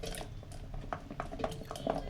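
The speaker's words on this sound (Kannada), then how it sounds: "ಕುಂಬಳಕಾಯಿ ಕಟ್ ಮಾಡಿ ಇಟ್ಕೊಂಡಿದ್ನಲ್ಲ ಅದನ್ನು ಹಾಕ್ತಾಯಿದ್ದೀನಿ" Cut pumpkin pieces being added into a pressure cooker, heard as soft close clinks and light wet thuds against the metal pot, fairly faint against a low background hum.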